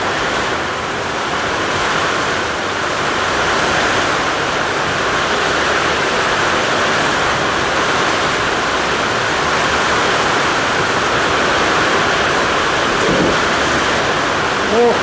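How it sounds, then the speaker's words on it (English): A heavy thunderstorm with steady downpour roars continuously around a woodworking shop, a dense broadband wash of rain with low rumbling underneath and a brief faint voice near the end. "Oh, thunder, lightning."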